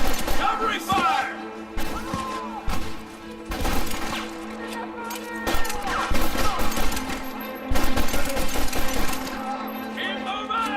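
Rapid bursts of gunfire crack through a shootout in Red Dead Redemption on PS3, shots clustered and overlapping in dense volleys across the whole stretch, with voices shouting over the din.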